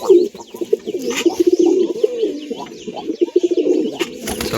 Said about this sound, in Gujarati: જો મિત્રો આ સફેદ કબૂતર આપણું